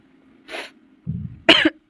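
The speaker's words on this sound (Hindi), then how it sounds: "तो वो खांसी ना इस वजह से ज़्यादा उठ गई" A few rough coughs and throat-clearing sounds close to the mic, one after another, with no talking.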